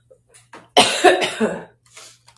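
One loud, rough cough rings out up close, framed by quiet breaths and small throat noises.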